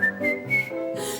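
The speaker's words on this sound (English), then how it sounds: "Well, I love to whistle, trouble won't come near me" A person whistles a bright, cheerful tune in a few short melodic phrases, close and clear, with no talking.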